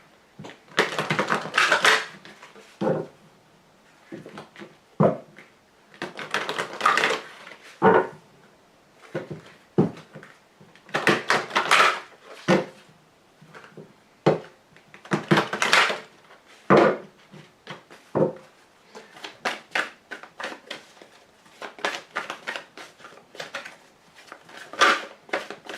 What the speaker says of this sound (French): je vais vous tirer 5 cartes du grand jeu de Mademoiselle Lenormand